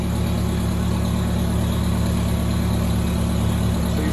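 A Race Terra race engine running steadily on a dyno in third gear, a loud continuous drone with strong low harmonics, close and unbroken, with no talk.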